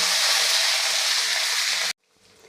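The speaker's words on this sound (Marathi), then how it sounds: "त्यानंतर तीन हिरवी मिरची एक इंच आलं सात आठ लसूण पाकळ्या हे सुद्धा यामध्ये आपल्याला घालून घ्यायचं आहे आणि त्यानंतर आपल्याला छान असं हे परतून घ्यायचं आहे" Green chillies, ginger and garlic are sautéed in a hot pan for bhendi batata bhaji, a loud, steady close-up sizzle that cuts off abruptly, leaving near silence.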